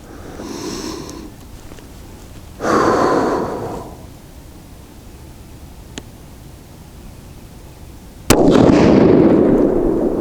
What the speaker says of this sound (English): let's go for our next 5-shot group and see what it gives us